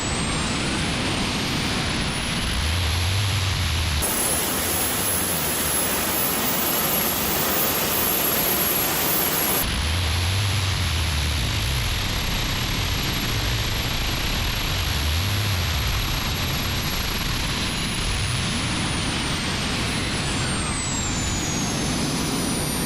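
A jet-powered Tesla car runs at full throttle, a loud, continuous roaring jet rush with a high whine that holds for over twenty seconds and surges harder for several seconds partway through.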